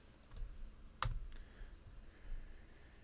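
A few faint, isolated clicks from a computer keyboard as terminal commands are typed, with one sharper keystroke standing out against a quiet room.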